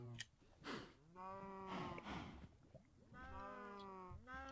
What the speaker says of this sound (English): those cows are noisy